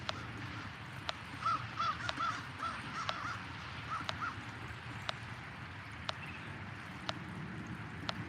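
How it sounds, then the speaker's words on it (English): Crows caw in a short series of harsh, evenly spaced calls, moderately distant, over a soft outdoor background with sharp regular ticks. "got a couple crows that are testing the metal here"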